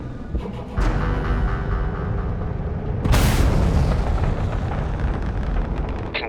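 A loud explosion rings out during starship combat in Starfield as a homing missile strikes an enemy ship, a sharp broadband blast about halfway through over sustained rumbling engine and battle noise, with no talk.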